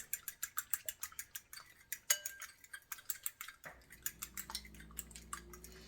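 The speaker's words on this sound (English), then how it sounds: "So I'm going to mix up the egg" Egg being whisked in a bowl for a caprese tart, a steady run of quick, light clinks and taps close by, ending in a softer swirling wash with no talking.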